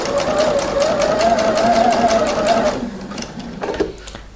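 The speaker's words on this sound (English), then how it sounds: "I'm just going to take a few stitches and back stitch here" Close and loud, a sewing machine stitches knit fabric for a jumpsuit, running steadily with a rapid pulse, then slows into a brief back stitch near the end.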